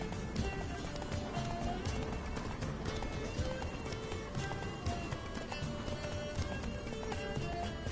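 In Witcher 3: Blood and Wine, a horse gallops with rapid, rhythmic hoofbeats over a dense bed of game ambience and music, steady throughout.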